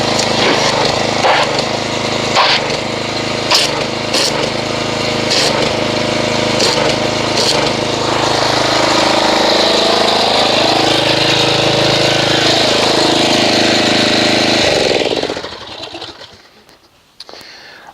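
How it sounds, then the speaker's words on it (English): An engine-driven pressure washer runs loud and steady with a constant motor drone and sharp spray bursts, then winds down and cuts off near the end. "So I'm going to go ahead and get the pressure washer and we'll see what kind of foam it just makes."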